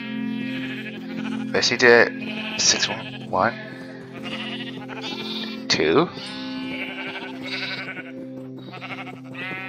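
Sheep bleating in Minecraft, several blocky game bleats sounding in short bursts over a steady hum of background game music, while a player talks throughout.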